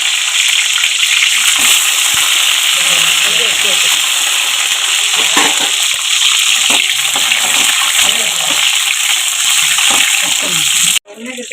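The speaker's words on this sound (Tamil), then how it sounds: "சட்டி நல்லா காஞ்சிட்டு இப்போ கத்திரிக்காய் போட்டு வதக்கிக்கலாம்." Brinjal hisses and sizzles loudly in hot oil in a pan, a dense continuous crackle with bursts of spatter close by, ending abruptly.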